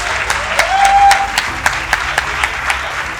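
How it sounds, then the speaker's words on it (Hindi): A room full of people claps loudly for the faculty at a felicitation and success party for bankers. The applause is sustained and energetic, with individual sharp claps standing out through the steady roar. "एक बार सभी के लिए जोरदार तालियां हो जाए सारी फैकल्टीज के लिए"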